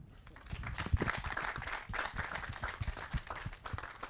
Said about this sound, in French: Je pense qu'on peut s'applaudir.